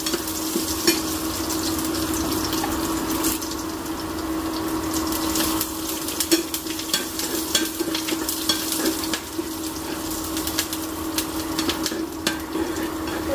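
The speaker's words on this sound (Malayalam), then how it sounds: "നമുക്ക് ഇതിലേക്ക് കരിയാപ്പില ഇടാം." Curry leaves crackle and sizzle in hot oil in a pan for a Kerala curry, a dense, steady frying hiss with sharp pops throughout, loud and close, with no talking.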